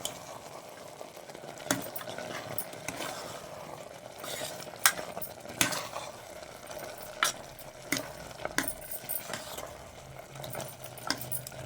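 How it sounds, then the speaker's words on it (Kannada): Coriander and chilli powder are stirred into a mutton gravy in a pan: a steady frying sizzle underneath, with repeated spoon scrapes and clicks against the pan. "ಮಿಕ್ಸ್ ಮಾಡೋಣ ಎಲ್ಲ ಕ್ಲೀನಾಗಿ"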